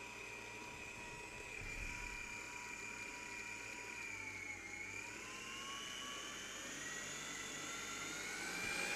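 An electric mixer whirs steadily as it beats and breaks up pastry cream to loosen it before folding in cream, a continuous high motor whine with no talking.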